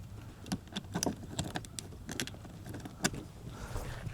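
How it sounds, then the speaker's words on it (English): A bike key working a new black motorcycle lock and latch, a run of close metallic clicks and jangles spaced irregularly, with one sharper snap near the end. "will my bike key lock it?"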